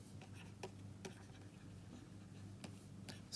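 Faint pen or chalk strokes and taps as a physics problem is written out, quiet scratching with a few sharp ticks in a hushed room, no talk.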